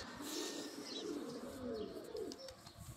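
Pigeons outside on a cloudy, humid day, soft cooing calls repeating through a continuous wash of nearby outdoor background noise, fairly faint with no talking.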